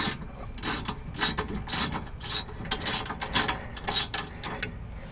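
A ratchet with a 15 millimeter socket backs self-tapping screws out of a 1967 VW Bus during transmission removal, giving bursts of quick, sharp clicking in irregular runs, close and moderately loud.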